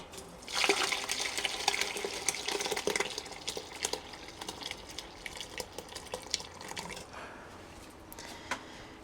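Orange, lime and strawberry cordial mix is poured through a colander into a bowl, giving a close, continuous splashing trickle with scattered drips that starts abruptly and tapers near the end.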